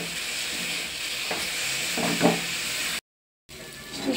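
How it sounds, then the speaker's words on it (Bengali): A spoon stirs sweet coconut filling with milk powder for puli pitha in a hot pan. Close scraping and a light sizzle run steadily, with a brief silent gap near the end. "সুন্দর করে মিশিয়ে নিয়েছি"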